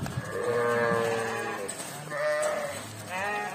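Sheep and young lambs bleat at pasture in a cool shaded spot among trees, several overlapping wavering calls close by, loud and continuous with brief pauses between cries.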